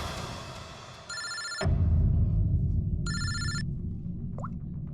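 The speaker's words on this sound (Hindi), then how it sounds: "फ्रेडी का फोन था" Phone ringtone for an incoming call in a CID crime drama scene, two electronic ringing bursts separated by a pause, loud and close over a low background rumble.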